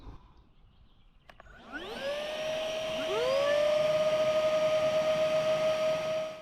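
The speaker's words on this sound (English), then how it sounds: "You can hear the difference in sound between these two pumps." Two Topump electric air pumps, models 260 and 300, start up one after the other to inflate stand-up paddle boards to 15 psi. Their steady motor whine rises into a loud, sustained drone with a high tonal hum and no speech.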